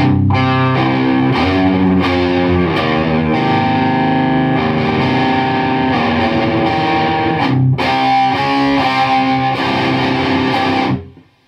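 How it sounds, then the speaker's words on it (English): Distorted electric guitar from a Les Paul played through the distortion channel of a Marshall amp, loud sustained chords and riffs ringing steadily before cutting off at the end. "It's a very natural Les Paul Marshall combination sound there"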